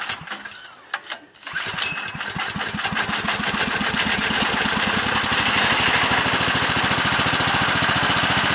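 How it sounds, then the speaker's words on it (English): A generator engine running on synthetic gas made from wood stove smoke sputters a few times, then catches and settles into a loud, steady, rapid idle that continues to the end. "That is a generator running completely on synthetic gas."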